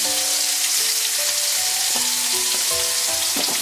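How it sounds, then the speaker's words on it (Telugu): Green chili and garlic paste hitting hot oil with browned chana dal for lemon rice, a loud continuous sizzle close up with a few faint tonal clinks, no voices. "దాంట్లోనే పచ్చిమిరపకాయ, తెల్లగడ్డ పేస్ట్ వేసుకుంటాము"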